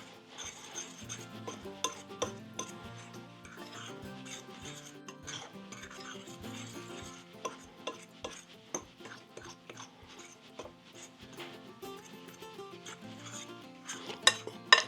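A fork scrapes and rubs against a bowl while cutting butter into dry ingredients for baking powder biscuits, faint irregular scratching and light taps repeating throughout, quiet and close.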